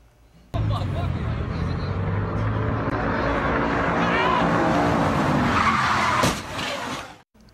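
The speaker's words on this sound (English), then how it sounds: "startling video for you from early this morning of a high-speed car crash." A high-speed car crash with a red car slamming into a security vehicle late at night, heard as a loud sustained roar of tires skidding and engine noise that rises, then cuts off abruptly near the end.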